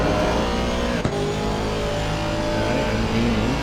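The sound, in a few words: race car engine revving on track exit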